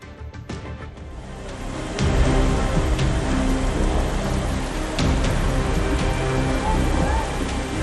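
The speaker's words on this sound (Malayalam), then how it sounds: "തോരാമഴ." Heavy monsoon rain pours steadily in Kerala, a dense, loud, continuous roar of falling water with scattered sharper drop impacts and a low rumbling undertone, with no voices.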